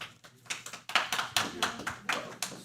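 Audience at a South Lake Tahoe city council meeting claps in a room, a steady run of sharp, fairly close hand claps lasting a few seconds without speech.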